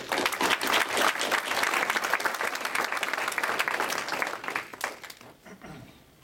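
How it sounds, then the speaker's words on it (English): An audience applauds two speakers at a talk: dense, loud clapping from many hands fills the room steadily, then thins and fades away over the last second or two. "Let's give a round of applause to both of them."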